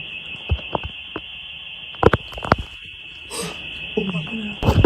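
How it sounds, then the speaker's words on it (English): A house alarm sounds a steady high-pitched electronic tone throughout, with sharp knocks and clatter close by and brief voices partway through. "their house alarm suddenly goes off"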